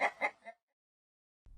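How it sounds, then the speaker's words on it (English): A hen clucks three times in quick succession, close and fairly soft. A brief low thump follows after a pause. "Hen."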